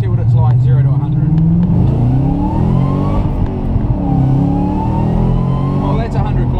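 Supercharged 2009 Ford Mustang Black Widow accelerating hard from a roll to 100 km/h on an open road, loud engine revving up through rising pitch sweeps with a gear change midway, heard from inside the car.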